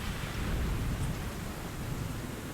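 In Shining Tears, a thick downpour roars steadily with a low rumble of thunder underneath, a constant close wash of rain with no voices.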